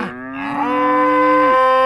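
A cow moos once in a barnyard, a long, loud, drawn-out call close by with no voices.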